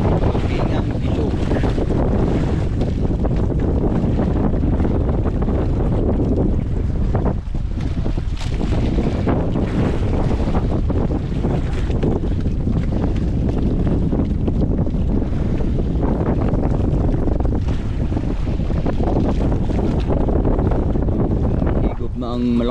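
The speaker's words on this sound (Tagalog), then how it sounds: "Ang malakas na hangin." Strong wind roars steadily across the microphone aboard a small fishing boat at sea, a loud continuous rumble with water noise that lasts throughout.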